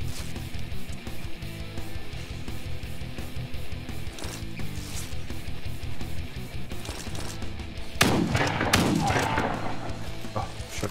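Assault rifle fire in The Front video game, steady rapid rattling shots under a continuous game soundscape, with a louder, denser burst of impacts near the end.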